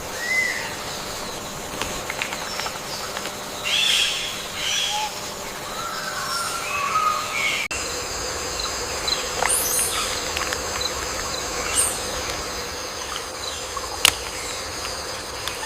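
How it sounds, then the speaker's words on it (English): Amazon rainforest mid-canopy at dusk: a dense, steady bed of insect buzzing and crickets with scattered faint bird chirps and calls, distant and even, with one sharp tick near the end. "Here in the mid-canopy, the sounds of the forest change as dusk settles"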